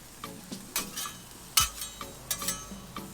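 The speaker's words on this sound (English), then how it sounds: "So we'll just get this nice and crispy on the griddle" Carnitas crisping on a Blackstone griddle, a steady sizzle broken by several quick metallic scrapes and clinks of a spatula turning the meat, close and moderately loud with no talking.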